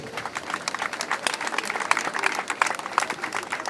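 An audience claps at a gathering, scattered, uneven hand claps forming a moderate round of applause, fairly near, with some crowd murmur mixed underneath.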